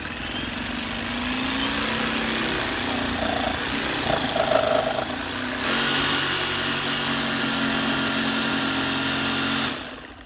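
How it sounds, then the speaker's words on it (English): A Ryobi 18V ONE+ cordless jigsaw cutting a precision line at a low orbital setting: a steady high buzzing motor drone that rises slightly in speed, then stops abruptly near the end, close and without talk. "We will take our jigsaw. I'm putting the setting to 0 for the precision cut. I'm starting one corner, go straight, bring up the speed a little bit."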